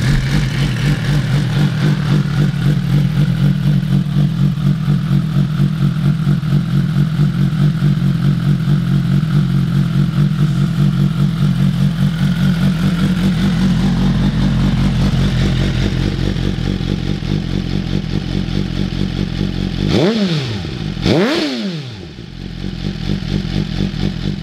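A 2023 Suzuki GSX-R1000R sport bike engine runs at a steady, loud idle nearby for most of the stretch, then two sharp throttle blips rise and fall near the end.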